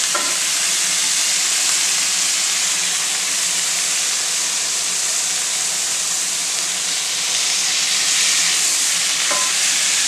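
Smashburger patties sizzle hard on high heat, a dense, steady hiss of frying fat that stays loud and close throughout with no talking.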